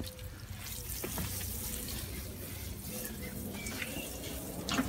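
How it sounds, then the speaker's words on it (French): Water streams steadily from a hose or watering can onto flowering strawberry plants inside a garden greenhouse, a continuous soft splashing hiss with no talk. "Et on continue donc à arroser."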